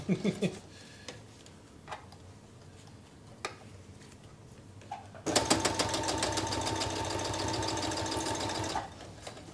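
A sewing machine stitching a seam, its needle skipping stitches by about five to six millimetres: a few isolated clunks first, then a loud, steady rapid mechanical chatter running for several seconds before stopping.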